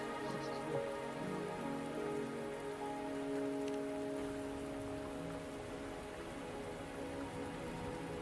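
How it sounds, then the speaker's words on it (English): Steady rain falling on surfaces in the video game Wuthering Waves, an even continuous patter under a soft layer of game music tones, with no talking throughout. "Are you trapped here by the rain?"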